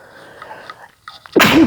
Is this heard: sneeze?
yes